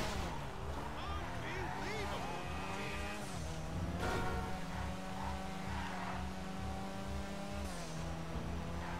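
A Vulcar Warrener HKR drifting in the video game GTA V, engine droning and revving with shifting pitch while tires squeal through slides, continuous and fairly close, with someone talking over it.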